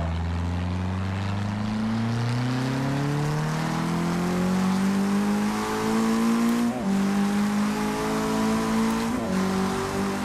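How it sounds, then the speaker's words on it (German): A loud Forza Motorsport 6 race car engine, heard from outside, revs hard under load, its pitch climbing steadily with a couple of brief dips as gears shift. "Die Karre nochmal unter Last von außen, einfach vom Klang her."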